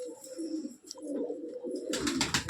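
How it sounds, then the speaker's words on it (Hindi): Pigeon cooing at a rooftop pigeon-keeping spot, soft low rolling coos in a few repeated phrases, moderately close, with a burst of louder hissy noise near the end. "देखिए वहाँ पर बैठा है किसी का कबूतर"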